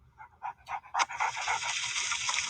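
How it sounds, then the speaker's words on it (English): A dog pants in quick, breathy bursts, close up, with a few soft whimper-like sounds at the start, followed by a steadier hiss. "He washes the dog."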